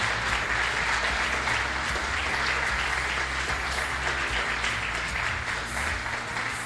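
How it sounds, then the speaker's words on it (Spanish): A church congregation claps together in praise during a Spanish-language service, a dense, even wash of applause that holds steady throughout, with a low background hum underneath. "Damos un aplauso al Señor por la vida de Melita."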